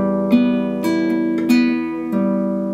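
Acoustic guitar fingerpicking the six-count pattern known as the 'six' over a held chord, bright plucks recurring every half second or so, close and clear, without voices.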